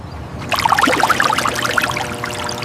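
Water pours steadily for washing dirty vegetables on a city rooftop farm, a loud splashing stream that starts abruptly and runs on without pause.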